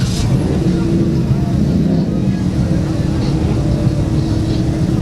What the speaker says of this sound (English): why don't you fire it up so we can hear the exhaust?